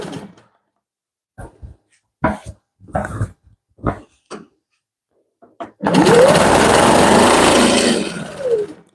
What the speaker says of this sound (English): I'll just stitch till I can't stitch no more.